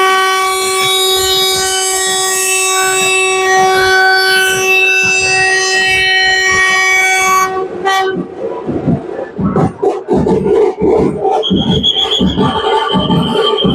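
A Vande Bharat Express at Anantapur station sounds a long, loud, steady horn, then pulls away with rhythmic clattering and rumbling of wheels over rail joints, close by, with a shorter horn blast later.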